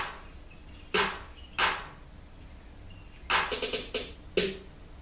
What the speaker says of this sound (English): 2 snares hitting here in the middle, in the gap, following on top of the kick.